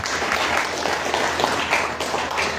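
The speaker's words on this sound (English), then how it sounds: "Can we give him a round of applause?" Brief burst of audience applause at a lecture gathering, many hands clapping at once in a dense steady patter, loud and close, with no speech over it.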